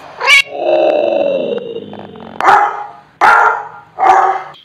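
A cat meows from an animal sound app, followed by several loud dog barks in a row, sharp and close, with short pauses between them.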